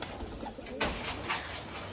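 Pigeons cooing close by, soft low throaty calls repeating in a loose rhythm, with a brief rustle partway through and no talking.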